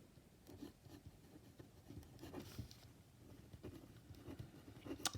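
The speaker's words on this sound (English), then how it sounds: "I'll write this down." Pen or marker scratching out notes during a math lecture on limits: faint, soft strokes with small scrapes and taps coming in short irregular bursts over a quiet room hum.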